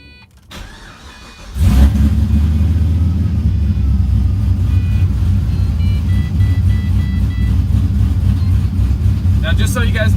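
The LS engine in a Pontiac GTO with a heavy exhaust leak turns over, then settles into a loud, steady, rough-sounding idle close by that fills the rest of the clip.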